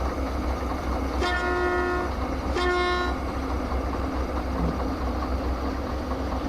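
A train horn in the Derail Valley train game gives two steady toots, each close to a second long, over a constant low rumble of the rolling locomotive.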